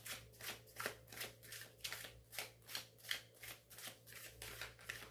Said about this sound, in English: You can see I've got a kind of ritual in my shuffle.